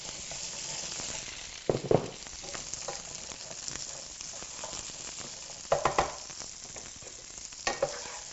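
Fresh green beans stir-fry with garlic in a pan, a steady soft sizzle broken by a few louder scraping stirs, close and with no voices.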